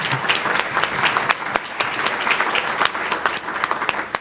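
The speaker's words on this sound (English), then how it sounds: "Give her a round of applause." Audience applause at an award ceremony for outstanding young people, a lively crowd clapping steadily with sharp individual claps standing out throughout.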